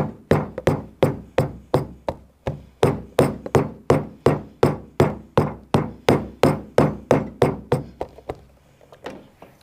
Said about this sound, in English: I'm gonna come in with my shoe hammer. I just kind of want to start tapping this seam